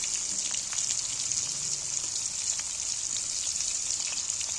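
Cauliflower florets frying in hot oil for the second time, a steady dense sizzle and crackle that holds evenly throughout, fairly close and without any talk.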